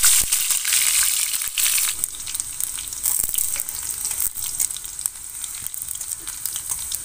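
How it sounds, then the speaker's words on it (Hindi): Chopped chilies hit hot mustard oil in a kadhai while sarson saag is being made, producing a loud, close, hissing sizzle that is fiercest at first and then settles into steady crackling frying. "तेल हमारा गर्म हो गया है, अब हम मिर्चा डाल देते हैं कटा हुआ"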